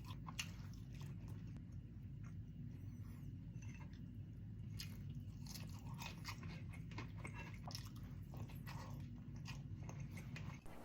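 Someone bites and chews a crispy breaded pork chop up close, with repeated crunchy, wet chewing sounds over a low steady background hum and no talking.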